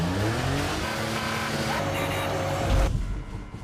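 An old vehicle engine at a tractor museum starts and runs loud and near, rising once in a brief surge before the noise drops away toward the end.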